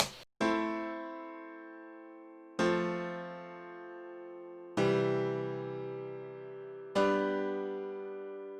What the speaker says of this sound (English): I added a really bright piano, just holding each of the chords out.